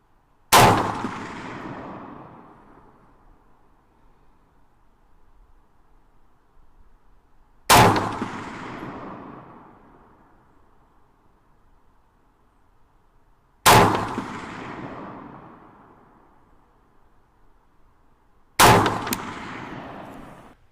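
Four sharp rifle shots fired with 69 grain ammunition at steel plates, each a loud crack followed by a ringing metallic decay, spaced several seconds apart with quiet between.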